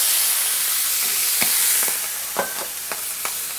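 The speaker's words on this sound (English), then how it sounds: "just deglaze your pan" Pork medallions sizzle in a pan as white wine is poured in to deglaze, giving a bright, steady hiss with a few sharp pops and spits near the end.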